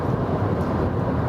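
Steady, dense road and wind roar inside a small Toyota Aygo city car with its roof closed, cruising at about 100–110 km/h. The rumble is loud and continuous, with no breaks and no voices.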